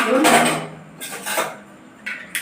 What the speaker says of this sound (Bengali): চামচ দিয়ে ঘুটে নিচ্ছি চাটাকে